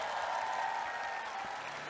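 An audience applauding at an outdoor municipal talk concert and citizens' budget festival, a dense, even clatter of many hands, steady and moderately distant.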